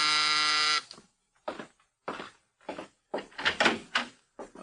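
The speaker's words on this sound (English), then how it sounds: "Now Mike is in his apartment when the door buzzer sounds." A harsh electric door buzzer in an old radio drama sounds once, loud and steady for under a second, then gives way to a series of short, separate sounds that could be footsteps or movement.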